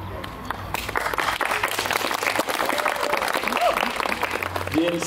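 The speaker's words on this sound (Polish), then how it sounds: "Więc kochani, wielkie, wielkie brawa, pan Paweł Królikowski." Audience applause at a youth days event in Tomaszów, a steady burst of many hands clapping that fills the room for several seconds while a voice speaks over it.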